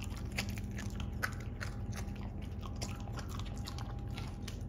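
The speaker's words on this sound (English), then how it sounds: "He likes to spit it out, taste it, and the other dog just chew it," A dog chews and crunches a homemade sweet potato treat close by, with a steady run of wet biting and gnawing sounds and no talking.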